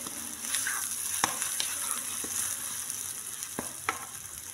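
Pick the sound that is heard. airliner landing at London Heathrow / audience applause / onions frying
onions frying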